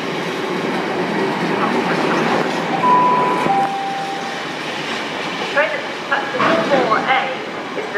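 Freight train hauled by locomotive 60010 rolling past Lincoln Central station, a loud continuous rumble and rattle of wagons with a brief squeal, voices audible in the background.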